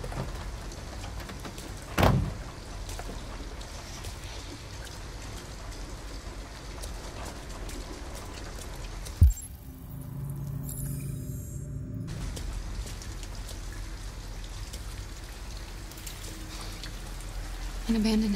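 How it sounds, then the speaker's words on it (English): Steady rain falls outdoors in Detroit: Become Human, a constant hissing patter, with a couple of sharp knocks and a brief muffled stretch where the rain drops away before returning. "At least we'd be out of the rain."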